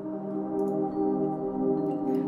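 Two layered synth mallet melodies ring together in sustained, bright tones, steady and moderately loud with no voices.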